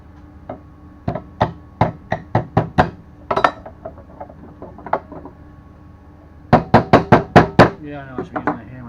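Pliers used as a hammer to knock a part into an outboard engine stand, making two quick runs of sharp, close metallic knocks separated by scattered taps.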